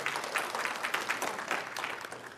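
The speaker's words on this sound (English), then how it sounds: "would y'all make them welcome with a round of applause" A church audience applauds the graduates, a steady patter of many hands clapping at moderate volume, heard from a slight distance for a couple of seconds.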